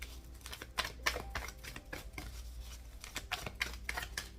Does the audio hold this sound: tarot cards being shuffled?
yes